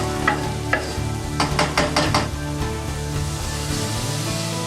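Chopped onions sizzle loudly in a hot pan while a utensil stirs them, a few quick scraping strokes in the middle over a continuous close frying hiss.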